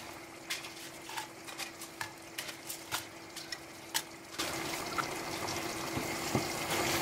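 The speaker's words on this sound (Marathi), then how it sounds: "आतां सुक्यो मिरसांगो त्यो रोस्ट करुया." Dry red chillies roast in a pan, heard as a series of distinct dry clicks and taps from stirring or turning, then a rising broad hiss in the last few seconds.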